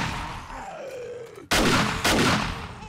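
An automatic shotgun firing in 7 Days to Die Alpha 19, two loud sharp blasts about half a second apart, following a low groaning creature sound.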